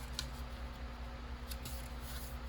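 Scissors snip faintly through folded paper while trimming a journal embellishment, with a few soft cuts over a low steady hum.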